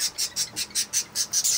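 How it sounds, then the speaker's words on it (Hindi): Parrots squawk noisily inside a bird cage, eight or nine sharp, shrill calls in a steady rhythm, loud and close, with no talk over them. "देखो ज़रा इतना शोर कर रहे हैं ये लोग। ये रहे तोते ऊपर"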